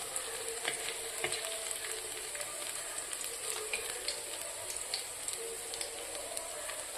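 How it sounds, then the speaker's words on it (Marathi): Onion fries in a pan for an Andhra-style amti, a faint, steady sizzle with scattered small crackles and the occasional light stir, and no voices. "आपला कांदा बऱ्यापैकी भाजत आलाय."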